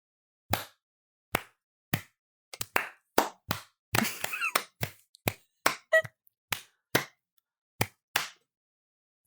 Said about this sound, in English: Everyone give themselves a round of applause.